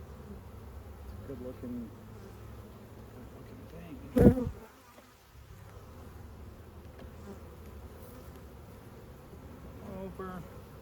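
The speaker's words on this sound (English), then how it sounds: "man, there are a lot of bees in here." A mass of honey bees in a swarm gives a continuous close buzzing hum, broken briefly by a sharp knock midway, while someone speaks briefly over it.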